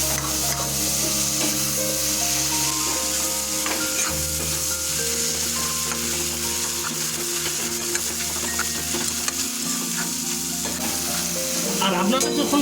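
Taro stolons (kochur loti) with cumin powder and spices stir-fried in a pan with prawns, making a continuous close sizzle with steady scraping and stirring throughout, no talking.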